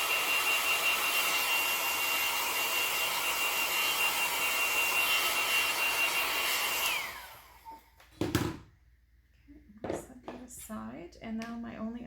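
A hair dryer drying freshly painted nail polish blows with a steady, loud whooshing whine for about seven seconds, then shuts off and winds down, followed by someone talking.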